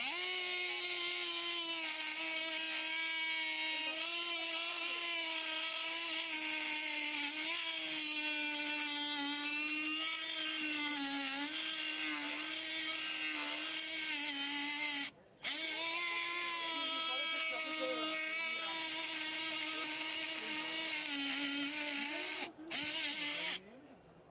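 A saw makes the upper cut in a block in a workshop, running on a freshly changed blade: a loud, steady, high whine that holds for the whole stretch, broken by two brief cut-outs.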